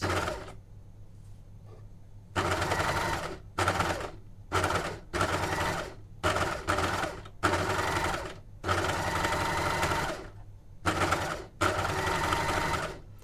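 A Janome overlocker stitching two fabric layers together along a blade-trimmed edge, loud motor whirring in about ten bursts of one to two seconds, separated by short quiet pauses, with no talk.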